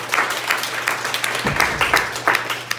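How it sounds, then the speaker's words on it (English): An audience at a comedy competition applauds a comedian, with a steady wash of clapping and a few louder claps and whoops rising through it. "Round of applause."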